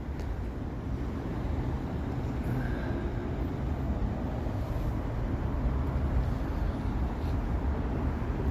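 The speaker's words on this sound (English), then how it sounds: "Oh, here comes another train." A train rolls past in downtown Toronto at evening rush hour, a steady low rumble and rattle of wheels at moderate distance with no talk.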